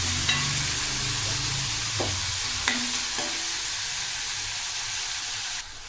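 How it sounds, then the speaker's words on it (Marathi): Chopped tomatoes sauté in hot oil with a dense, constant frying hiss, and a spatula gives three or four brief scrapes against the pan before the sizzle drops slightly at the end. "त्याला पण 2 ते 3 मिनिट तेलात परतून घ्यायचं आहे"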